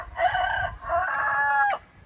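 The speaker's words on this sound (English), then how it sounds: "A very weak crow." A rooster crows weakly nearby: a short two-part call, a brief opening note followed by a longer, thin drawn-out tone that cuts off abruptly, loud and close with no talking.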